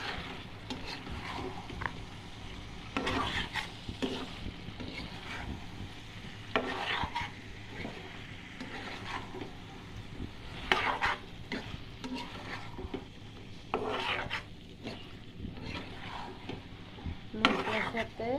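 Chicken legs and wings with spices stirred and tossed in a pan, giving a steady scraping, sizzling churn with repeated louder bursts of utensil strokes against the pan. No one speaks.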